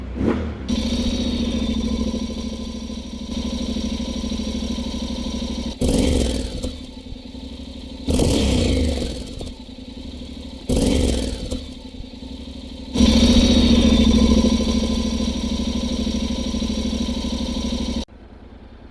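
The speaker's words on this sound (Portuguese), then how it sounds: "Moto ligada." A Honda X-ADV scooter engine idles with a low steady hum, broken by four sharp throttle blips and a longer sustained rev before it drops back to idle.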